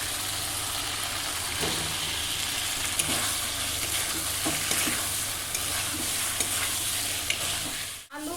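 Fried potatoes and pointed gourd tossed into sizzling masala, a dense continuous frying hiss with occasional clinks and scrapes of stirring, loud and close, ending in a sudden cutoff.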